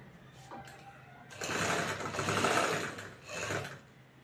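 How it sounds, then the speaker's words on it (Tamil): A sewing machine stitches a folded saree hem with a whirring mechanical run that starts, swells over a couple of seconds, pauses briefly, then runs again, heard close up. "2 மடிப்பு மடிச்சுக்கணும். ஸ்ட்ராங் தையல் போடுறோம்."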